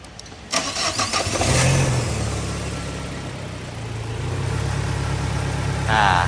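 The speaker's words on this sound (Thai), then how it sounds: "หลังจากประกอบฝาเสร็จเรียบร้อยนะฮะมาติดเครื่องดูกันนะ" A Tata CNG car engine with a freshly repaired cylinder head, including re-threaded spark plug threads, cranks briefly, catches and settles into a steady, loud idle close by.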